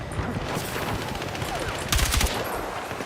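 Rapid bursts of gunfire from the video game Battlefield 6 crackle in quick succession, with a louder cluster of shots near the end, all fairly close and dense.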